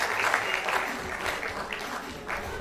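A debate audience applauds a woman as she takes the microphone. Fairly soft, continuous clapping across the hall swells and dips slightly, with some murmur under it.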